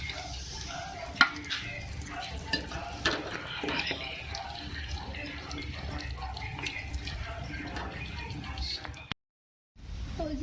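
Beef liver (kalaji) being stirred and fried in a pan, a faint crackling sizzle with occasional scraping clicks of the spoon, someone talking over it, then a short silence.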